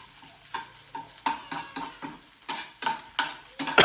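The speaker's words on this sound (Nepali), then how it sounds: "लसुन र क्याप्सिकम मजाले मजाले ड्याम फ्राई दिनुपर्ने हुन्छ" Garlic and capsicum fry in a pan for chicken crispy, with a soft background sizzle broken by regular, rhythmic stirring scrapes of a spatula, growing louder toward the end.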